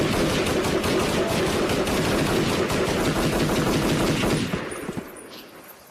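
Sustained loud gunfire from an execution scene in a radio drama, a continuous rapid burst of shots lasting several seconds before dying away into quiet.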